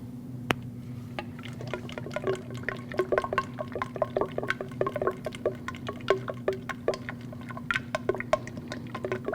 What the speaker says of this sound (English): Take the cap off, install your funnel, and now you want to add the oil.